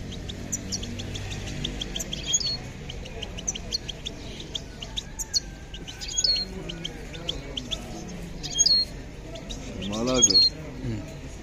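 Songbirds, mostly goldfinches, chirp and trill in quick bursts at an open-air bird market, several calls overlapping, with a brief burst of louder twittering near the end over a steady background murmur.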